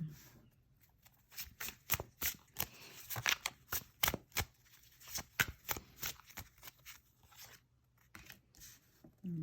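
Tarot cards shuffled up close in a quiet room, a long run of crisp riffling snaps in quick irregular bursts, each card flick distinct and fairly soft.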